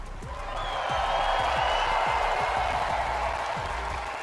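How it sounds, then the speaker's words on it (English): A large crowd at a Fortnite esports watch party roars and cheers continuously, a broad sustained wash of voices with some clapping that swells and holds before easing slightly. "Copenhagen, are you cheering for Thomas?"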